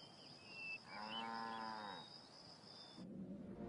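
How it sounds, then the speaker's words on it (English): A dairy cow gives a single drawn-out moo, clear and fairly close, over faint background ambience. "the dairy cow."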